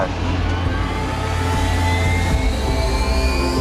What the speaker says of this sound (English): here comes the engine start